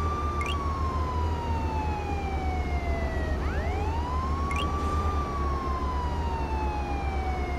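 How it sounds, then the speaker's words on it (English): Police siren in the video game Contraband Police, a steady wailing tone sweeping slowly down and back up over a low engine rumble, loud and continuous with no talk. "Sirens on."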